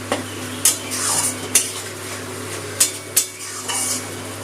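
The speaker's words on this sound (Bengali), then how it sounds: "মশলা বাটার জলটা দিয়ে একটুখানি মিশিয়ে নিলাম" Lentil and rice khichuri being stirred in a pot after spice paste water is added, with several distinct scrapes and clinks of a spoon against the vessel over a steady low hum, no talk.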